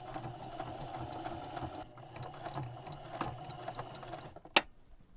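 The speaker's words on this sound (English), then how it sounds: "I am just going to do an edge stitch along here, along both of these edges" A sewing machine runs steadily, edge stitching the side seam of a smock apron, with a close, continuous whir and a brief sharp click near the end.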